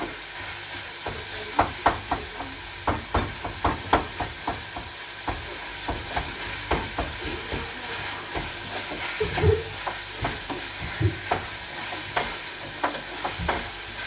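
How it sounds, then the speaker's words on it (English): Beef meat pie filling stirred in a hot pan, a steady sizzling hiss broken by repeated scraping clicks of the spoon against the pan, close and continuous with no talking. "Then I'm stirring it. I'm going to stir it."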